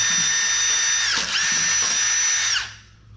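A cordless power drill fitted with a shock-wave drill bit whines at high speed as it bores quickly through material near an idler pulley on a Toro machine, loud and steady, briefly dipping as it bites, then stopping abruptly.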